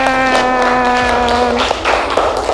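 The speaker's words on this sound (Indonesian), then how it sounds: "Beri tepuk tangan." Classroom applause in a teacher-training lesson in Yogyakarta, Indonesia, with scattered claps over a sustained tonal hum, loud and close for a couple of seconds.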